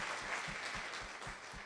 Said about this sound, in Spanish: Damos un aplauso al Señor por tu vida.